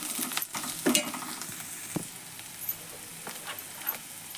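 A ground paste of green chili, garlic, coriander and cumin with turmeric fries in a pan, giving soft sizzling with a few sharp stirring scrapes and clicks, fairly quiet throughout.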